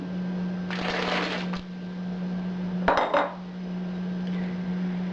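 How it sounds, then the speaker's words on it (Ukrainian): Potatoes dropped into a pot of boiling broth, two brief clattering pours over a steady kitchen hum, close and moderately loud, with no talk. "В киплячий бульйон засипаємо картоплю."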